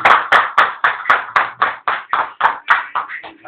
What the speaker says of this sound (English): I request everyone to clap for them